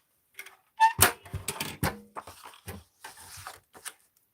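Scissors or a paper trimmer cutting paper for a junk journal, a run of close, crisp snips and crunches in quick uneven bursts, with no talking.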